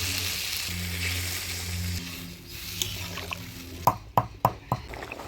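Water is poured into spiced potato curry frying in a pan, a steady hiss and sizzle that quiets, then a few sharp clattering knocks at the end, close and without talk.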